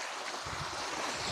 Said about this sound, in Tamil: இங்க மோட்டர்ல இருந்து தண்ணி போயிட்டு இருக்கு பாருங்க.